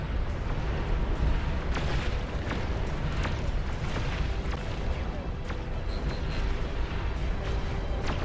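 Artillery fire in the large-scale RTS game Beyond All Reason: a dense rumbling barrage peppered with repeated sharp blasts and booms, continuous and fairly loud throughout.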